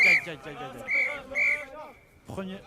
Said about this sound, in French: la mi-temps est sifflée